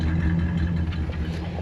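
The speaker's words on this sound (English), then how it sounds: "Sounds like a normal car now." Old Chrysler engine, revived after sitting 22 years, idling smoothly with a steady low rumble and light clatter, close by and constant throughout.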